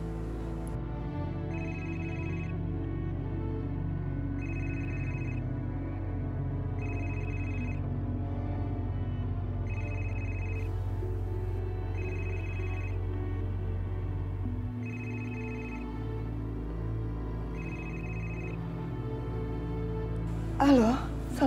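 A telephone rings back in regular short double pulses, about every two and a half seconds, during an outgoing call, over a steady low hum, ending in a brief click as the line connects.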